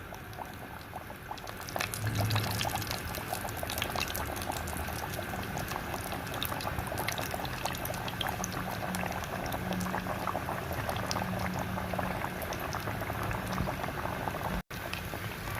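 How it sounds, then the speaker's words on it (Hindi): Samosas deep frying in hot oil over a medium flame, a steady dense bubbling hiss that runs evenly throughout at moderate level, close by, with no voices. "मीडियम फ्लेम पे जो है हम इनको फ्राई करेंगे"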